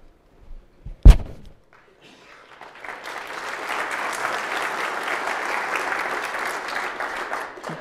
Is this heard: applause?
yes